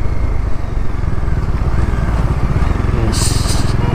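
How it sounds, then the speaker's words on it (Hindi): A sports bike motorcycle engine runs loudly and continuously nearby on a busy road in Manali, with a rough, throbbing drone and voices underneath. "sports bike"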